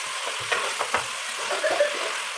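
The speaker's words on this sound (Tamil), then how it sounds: "தக்காளி சேர்த்து நல்லா வதக்கணும்" Tomatoes sauté in a pan with a soft, steady sizzle and a few light stirring scrapes, close and fairly quiet, with no voices.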